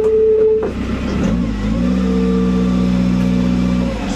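Commer 2.3 turbo van setting off on a test drive, its engine revving up steadily and droning at moderate loudness close by, with a brief whistle-like tone at the start.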